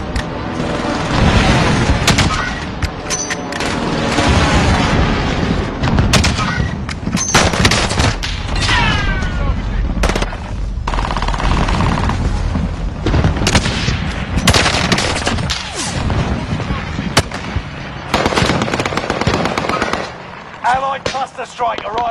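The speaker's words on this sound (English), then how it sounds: "Allied precision airstrike incoming." Explosions from precision airstrikes in a first-person shooter video game, a dense, loud barrage of blasts and gunfire that rolls on almost without pause, with in-game radio voices and chatter mixed in.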